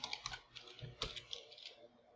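Quick, uneven keystrokes tap on a computer keyboard in a quiet room, a soft burst of clicks with a couple of sharper key hits, faint and close, no talking.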